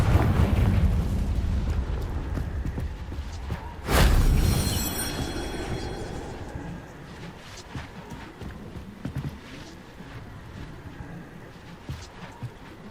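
A Confringo spell explosion in the Hogwarts Legacy video game: one loud, sudden blast near the four-second mark that fades into a rumbling tail, set against a steady background of game ambience.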